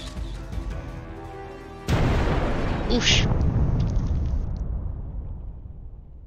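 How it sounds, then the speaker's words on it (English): A bomb goes off in the video game Princess Peach Showtime, a sudden loud boom followed by a long rumbling roar that slowly fades, with a voice heard briefly just before. "That's a big explosion."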